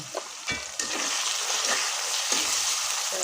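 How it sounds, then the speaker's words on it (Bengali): Onions and chillies frying in a pan with salt and turmeric, a steady close sizzle with a few scraping clinks of a spatula, no talking. "এখন এগুলো ভেজে নেব"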